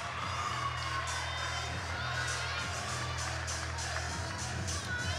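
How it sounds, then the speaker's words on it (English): A gymnastics arena crowd at a BYU meet cheers and whoops loudly and steadily for a high beam score, a dense wall of applause and shouts that holds throughout. "the crowd responds to Van Tassel's score"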